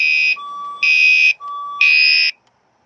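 A building fire alarm under test sounds three loud, harsh electronic horn blasts in a regular on-off rhythm, with a thin, steady lower tone filling the gaps between blasts, alone without any talking.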